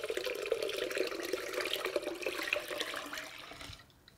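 Six cups of water pour from a tap into a slow cooker for blueberry oatmeal, a steady splashing gush close by that cuts off near the end.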